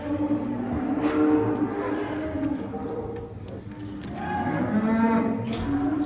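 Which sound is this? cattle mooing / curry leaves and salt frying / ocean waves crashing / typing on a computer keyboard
cattle mooing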